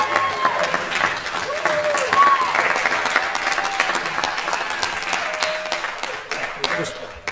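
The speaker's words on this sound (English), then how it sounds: "So if anybody deserves a round of applause." A city council meeting audience applauds a councilor; a roomful of people claps steadily and fairly loudly for several seconds, tapering slightly near the end, with some voices murmuring underneath.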